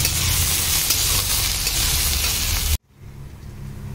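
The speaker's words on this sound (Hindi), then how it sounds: "जब तक हमारी प्याज भून रही है" Onion frying in a pan, a loud dense sizzle close up for nearly three seconds, then cutting off abruptly to a much quieter hiss.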